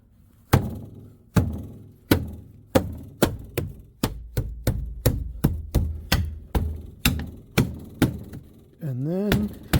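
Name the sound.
banging a Land Rover door card into place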